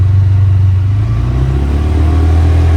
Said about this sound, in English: you can hear how quick it's revving